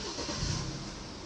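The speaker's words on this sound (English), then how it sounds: "to start the BMW 320i Sport, make sure the key fob is inside the car" A BMW 320i Sport from 2015 with push-button start, its engine cranking and catching into a steady mid-pitched idle, close and fairly loud, with no talk over it.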